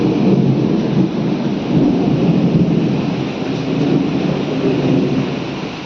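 Heavy rumbling thunder rolls on through a Kalbaishakhi storm, loud and continuous over steady pouring rain.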